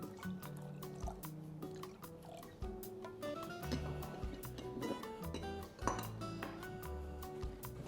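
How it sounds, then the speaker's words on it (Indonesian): Water is poured into egg whites and mixed for breading, with trickling and dripping liquid, light clinks of utensils against a dish, and music playing underneath. "kita campur aja putih telur, tambahkan air, boleh tambahkan lagi"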